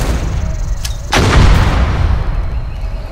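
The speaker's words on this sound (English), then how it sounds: "Come on, grenade out!" A grenade explodes in a World War II Pacific combat video game, a sudden loud broadband boom that swells and rumbles for a couple of seconds, preceded by a sharp earlier crack amid ongoing gunfire.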